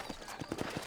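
Horse hooves clip-clop in a steady rhythm in Red Dead Redemption, a Western video game set in New Austin, with several distinct, fairly close hoofbeats over a soft ambient bed.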